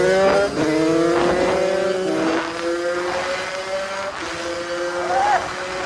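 A tuned Sherco 50cc racing motorcycle engine screams at high revs nearby, its sharp two-stroke whine rising and dipping through gear changes in a continuous loud run.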